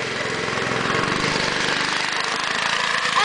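A go-kart engine drones steadily nearby during a lap at Lynchets, a rough, buzzing mid-pitched running note with slight unevenness and no talking.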